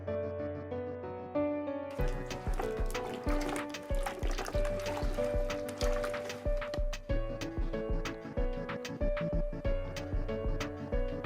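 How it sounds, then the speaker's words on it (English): Cut cucumbers drop into Turkish pickle brine, making close splashing and trickling liquid sounds with repeated plops over a steady background of music. "Add the cut cucumbers into the brine."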